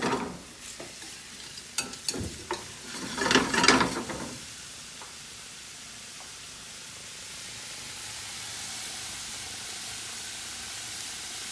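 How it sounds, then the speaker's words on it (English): White onions sautéing in oil in a pan over a medium flame, opening with several clattering stirs and scrapes of a utensil against the pan, then settling into a soft, steady sizzle that continues alone. "you're going to cook those down until they're translucent on a medium flame"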